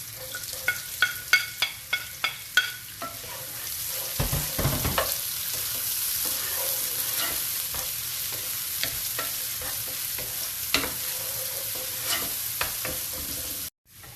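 Onions frying in a pan while being stirred for palabok, opening with a series of sharp utensil taps against the pan, then a steady loud sizzle with occasional scraping stirs.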